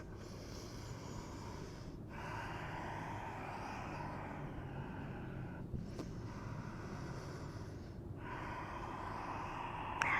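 Deep yoga breathing during a vinyasa class: slow, audible breaths rise and fall about every two to three seconds, faint and close, with a low background hum underneath.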